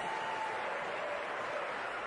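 A tennis crowd at a women's match applauds a winning backhand point with steady, even clapping. It sounds distant and soft and holds at the same level throughout, with no voices on top.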